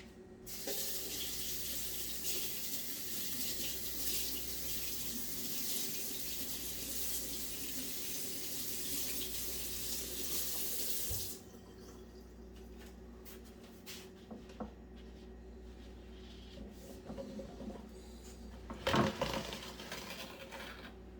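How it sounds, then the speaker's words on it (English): Kitchen tap water runs loud and steady for about eleven seconds while hands are washed, then shuts off, leaving faint clinks and thumps of kitchen movement. "I'm going to go wash my hands."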